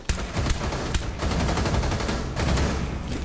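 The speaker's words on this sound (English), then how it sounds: "I just shot randomly and killed two people through smoke" Rapid gunfire in a video game shooter rings out at close range as repeated sharp cracks in quick bursts, with shots fired blindly through smoke. The volley is loud and steady over dense background game noise.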